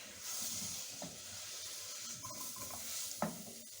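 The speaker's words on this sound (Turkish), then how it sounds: "Onu da ilave ettikten sonra tekrar bunları da biraz kavuruyoruz." Potato sautéed in a pan for a cornmeal soup base, a faint steady sizzle with soft stirring scrapes and a sharper clink of a utensil near the end, without voices.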